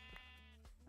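Sheep bleating in the Minecraft video game, two or three short wavering bleats repeating close together over a steady game background.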